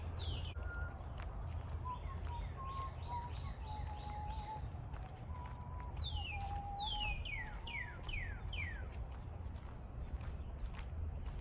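Birds chirp outdoors beside freshly cut grass, with repeated descending whistled calls and short tones over a steady wind-like rumble, moderately distant.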